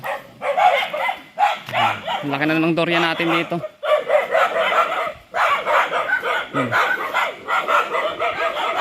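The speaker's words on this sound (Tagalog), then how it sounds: "Ayan o, mga aso" Dogs bark in short bursts amid steady talking on a walk to a durian farm, with a few barks standing out near the middle of the recording.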